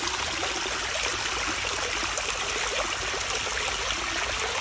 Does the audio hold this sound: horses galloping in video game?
no